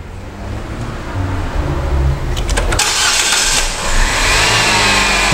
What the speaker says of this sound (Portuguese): A gente tem que ligar o motor.